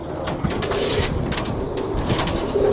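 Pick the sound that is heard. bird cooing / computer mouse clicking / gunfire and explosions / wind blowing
bird cooing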